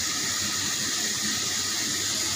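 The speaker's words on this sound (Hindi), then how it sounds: "आज पानी भरता हुआ दिखाना था" Water from a tap runs steadily into a container on a hot sunny day, a continuous broadband rushing hiss with no pauses and no voices.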